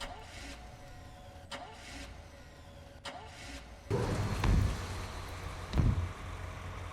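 A generator in Roblox FNaF Secret of the Mimic cranks into life after a few quiet clicks, then settles into a loud, rumbling engine drone that swells once more near the end.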